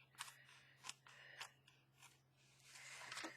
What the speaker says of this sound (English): And let's go through and cut these out for right now